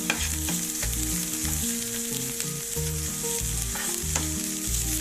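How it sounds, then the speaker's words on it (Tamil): Sliced onions with ginger-garlic paste sizzle and fry steadily in a hot pan for a roadside-style mushroom masala, a continuous close crackle with faint stirring, no voices. "சேர்த்து கொஞ்சம் நல்லா வதக்கிக்கலாம்."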